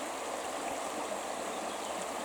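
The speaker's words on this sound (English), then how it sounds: "listen to my voice and to the voice of the flowing water" A flowing river makes a soft, steady rush of water, faint and continuous with no break, and no voice over it.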